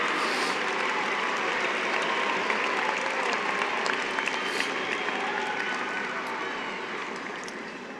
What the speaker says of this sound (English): give them a round of applause for their support for you